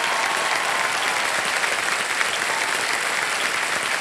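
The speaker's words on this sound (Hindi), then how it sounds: "तालियां बजती रहे जसमीन जी के लिए।" Studio audience applause for a contestant on the KBC quiz show, a dense, steady wash of clapping that fills the whole stretch at close range with no voices over it.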